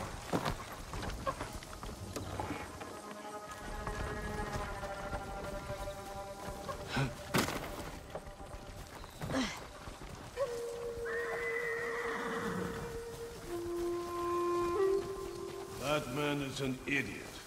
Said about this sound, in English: Follow those horses.